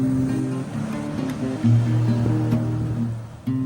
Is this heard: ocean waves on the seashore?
yes